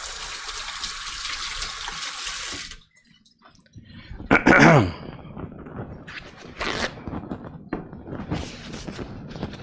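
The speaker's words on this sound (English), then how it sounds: "Just rinse my hands off here before I go leaving more thermal compound on stuff I'm touching." Hands rinsed under a running water tap during a PC repair, a steady close hiss of flowing water for a few seconds, then the flow stops and a few wet splashes and thumps follow.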